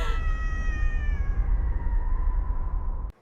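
A cat in a Batman console video game gives one drawn-out, loud meow that falls in pitch over a low game rumble, then cuts off abruptly.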